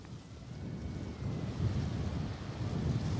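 Wind gusting outdoors at about ten miles per hour, heard as low buffeting rumble against the microphone that swells and eases, with a stronger push about halfway through.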